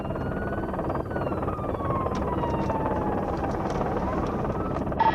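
Steady rotor drone of a police helicopter over a motorway, constant and moderately loud, with a faint tone shifting slowly in pitch and light background noise.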